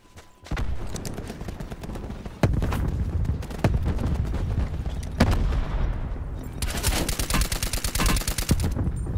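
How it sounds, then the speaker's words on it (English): Gunfire in a battle royale video game: repeated sharp shots and rapid automatic bursts, some loud and near, ending in a dense fast volley. "Oh, no, shooting people there."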